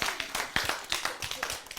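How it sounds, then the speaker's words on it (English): A small audience claps for a round of applause, giving a quick run of close, uneven handclaps that lasts under two seconds. "I feel like we need to give her a round of applause."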